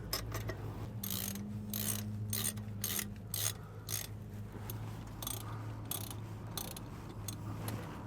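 Ratchet clicks in short repeated bursts as bolts on a replacement brake caliper are tightened, a steady low hum running underneath, with no talking.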